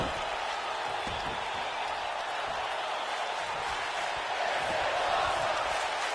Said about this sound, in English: Crowd is loving this match.